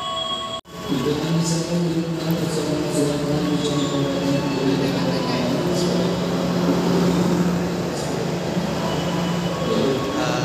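An Indonesian Motis Tengah passenger train with four cars rumbles steadily past close by, a continuous low mechanical roar with a sharp drop at the start.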